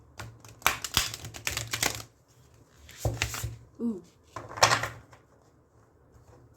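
Several quick papery riffles and clacks of oracle cards being shuffled in bursts, with a short murmured exclamation in between.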